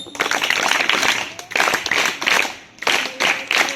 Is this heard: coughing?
no